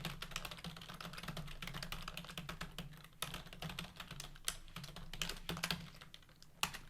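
Fast, uneven clatter of computer keyboard typing, close and continuous with brief pauses between bursts.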